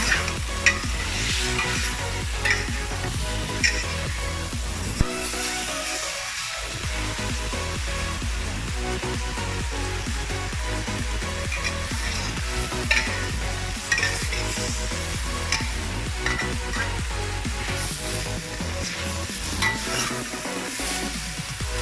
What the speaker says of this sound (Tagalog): Haluin natin ang kalabasa.